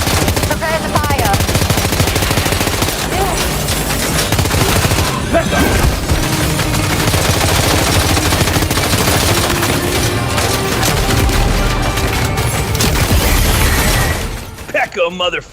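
Dense, continuous gunfire rattles in Death Stranding 2, loud rapid bursts and impacts layered with shattering crashes almost throughout, with voices shouting amid the shooting before it drops off abruptly at the end.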